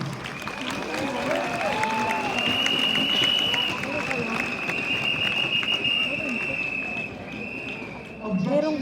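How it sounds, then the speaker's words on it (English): A crowd claps and cheers in a sustained burst of applause, with voices talking and calling out over it throughout. "Give them a round of applause, please."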